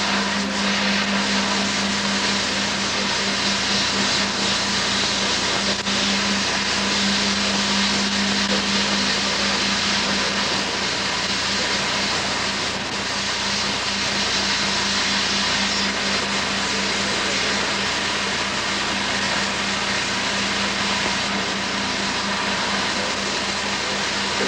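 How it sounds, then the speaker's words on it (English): Power inverter unit converting DC to AC runs as a constant, loud broadband whine and hiss with a steady low hum, unchanging across the whole stretch with no talk. "the sound you hear in the background is that of the unit changing DC to AC"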